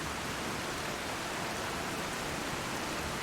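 Heavy rain in Skyrim with the E&B weather mod: a dense, steady, broadband hiss that stays constant at full loudness throughout, with no voices over it.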